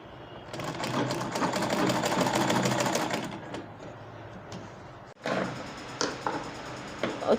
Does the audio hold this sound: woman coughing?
no